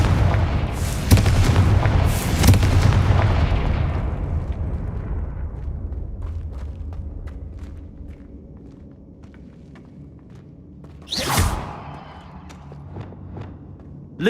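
Fiery Confringo spell blasts in Hogwarts Legacy: two heavy booming explosions up front with a long rumbling decay, light footsteps, then another sharp blast near the end.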